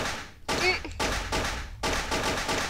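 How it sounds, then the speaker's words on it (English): Bursts of rapid gunfire shooting zombies in the Flash game Boxhead, three quick volleys separated by short gaps, fairly quiet with a faint voice underneath. "I'm just gonna keep shooting zombies"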